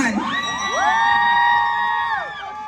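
A crowd cheering and whooping for the first contestant at a university orientation event, loud and close, rising together into a sustained burst of voices lasting a couple of seconds.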